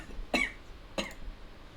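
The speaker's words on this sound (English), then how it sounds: "I collapse to my knees and cough" Two short, sharp coughs come about half a second apart from a single close voice, over faint background hiss.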